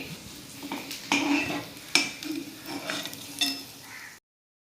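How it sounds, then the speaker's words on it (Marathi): Chakli frying in hot oil while a utensil stirs and knocks against the pot, with several sharp metallic clinks over a low bubbling sizzle, close by, before cutting to silence. "आता ही चकली तळते"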